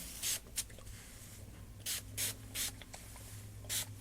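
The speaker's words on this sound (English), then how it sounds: "to make these look a little brand new, I'm just going to spray all of it" Several short hissing spray bursts from an aerosol can of hair shine spray, quiet and close, spaced irregularly over a low background hum.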